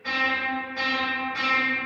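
Three sustained distorted guitar notes through a Line 6 Helix reverb at 100% mix, each struck and swallowed by a heavy wash of reverb that blurs and rings out between hits.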